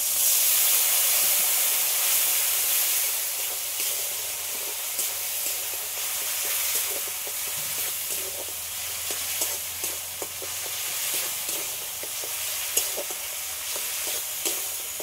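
A chilli powder and turmeric spice mix sizzles hard in a pan after a splash of water goes in, a constant frying hiss broken by repeated scraping and stirring taps.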